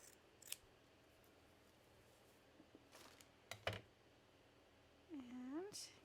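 A few short scissor snips cutting a hunk of craft fabric, quiet and close in a still room, with brief voice sounds near the end.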